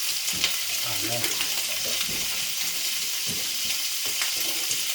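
Sausage and leftover rice frying in a pan, a continuous hissing sizzle with occasional soft stirring knocks, moderately close with no talking.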